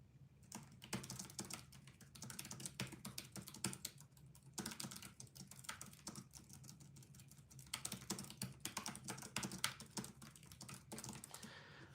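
Steady, fast clicking of keys on a computer keyboard, continuous bursts of typing with short pauses, close and fairly quiet.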